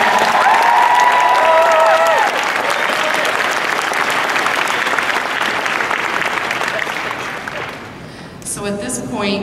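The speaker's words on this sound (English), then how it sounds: "Big round of applause for him." Loud audience applause fills a convention panel room, steady dense clapping with a few cheers, tapering off near the end as a voice begins to speak.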